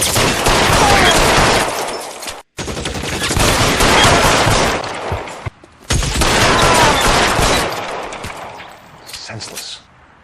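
Loud, sustained gunfire from a shootout in LA Noire, dense volleys of overlapping shots filling nearly the whole stretch with two brief gaps, with speech mixed in.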